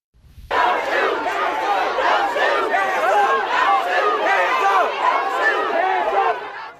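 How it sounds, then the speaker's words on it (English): A massive street crowd in Ferguson chants at police, many voices shouting together loud and close in a dense, continuous roar that starts abruptly and holds steady for about six seconds. "look at that massive crowd there chanting at police not to shoot them"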